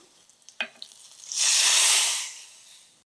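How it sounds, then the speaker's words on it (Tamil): A few small clinks, then a sudden loud sizzle and hiss as hot tempering hits simmering rasam, fading gradually over about a second. "இப்போ இதில் தாளித்ததை சேர்த்துலாம்"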